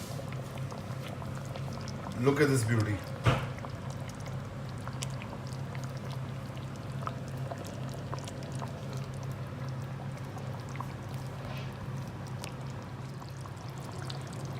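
Chicken korma (murg mirch korma) simmers and bubbles steadily in a pot, a soft continuous low bubbling throughout, with a brief clatter and a short spoken comment near the start.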